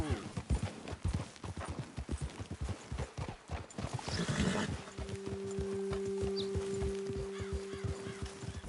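Horses in Red Dead Redemption 2 clop steadily at a trot, dense rhythmic hoofbeats that slow and fade as the riders stop, followed by a snort and quiet ambient tones, with faint fowl in the background.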